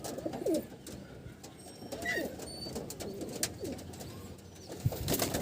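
A male and female pigeon pair, the male heavier and the female small, give soft intermittent coos and rustles at close range against faint background noise.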